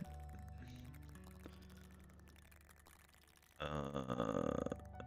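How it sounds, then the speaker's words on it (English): A man lets out a deep, drawn-out burp after an energy drink, rumbling up close and swelling louder toward the end over a low background hum. "I'm puke burping."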